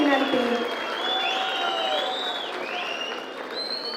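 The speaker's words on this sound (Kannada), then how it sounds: "ಜೋರಾದ ಚಪ್ಪಾಳೆಯನ್ನ ಕೊಡಬೇಕಾಗಿ" An audience applauds at a public ceremony in Karnataka honouring the Chief Minister. The clapping is steady and dense, spreading across the whole moment at an even level, with some tonal sounds faintly threaded through it.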